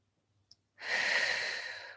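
A long, breathy exhale during a Pilates exercise, heard close and alone after a brief click, lasting over a second before fading.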